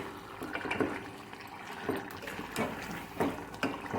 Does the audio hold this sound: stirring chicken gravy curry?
yes